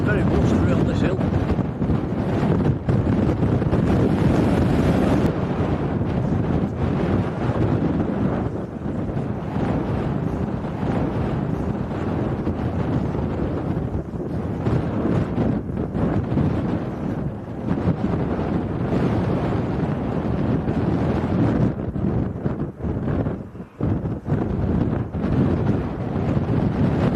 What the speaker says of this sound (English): Wind's blowing the camera around a little bit. It's very blustery on this hill.